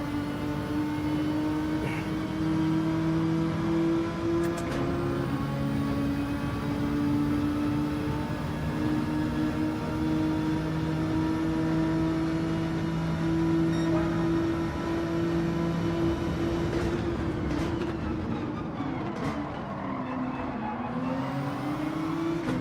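Race car engines in Gran Turismo 7 hold a steady, loud droning whine at high revs, with gear shifts and a pitch change near the end as the cars keep running close together.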